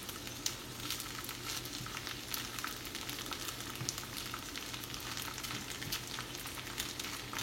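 Chilli chicken sizzles on a hot plate with butter beneath it, a close, steady hiss of frying with fine crackles and pops running evenly throughout, no voices.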